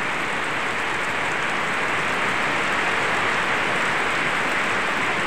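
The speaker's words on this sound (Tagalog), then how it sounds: "So ngayon bigla lang lumakas yung ulan." Heavy rain pours steadily, a dense, even hiss of drops on surfaces at constant loudness with no voices.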